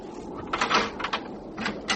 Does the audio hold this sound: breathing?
no